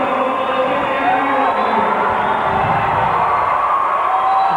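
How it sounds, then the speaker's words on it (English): Indoor soccer crowd at a 1993 NPSL match between Detroit and Canton, cheering on Salgado during a one-on-one shootout attempt, a steady dense roar of voices with scattered whoops, loud and sustained throughout. "There's a crowd getting behind Salgado"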